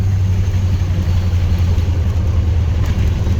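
Heavy truck with a 10R80 10-speed transmission, 3.73 gears and tall 37-inch tires, its engine rumbling low and steady throughout, close and continuous with no clear shift breaks.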